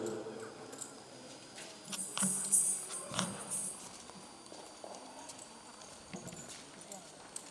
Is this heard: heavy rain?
no